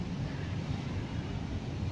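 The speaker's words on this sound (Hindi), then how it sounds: "हवा बहुत तेज़ चल रही है" Strong wind blowing steadily just after rain, a continuous low rushing roar with gusty texture buffeting the microphone, loud and close with no other sounds standing out.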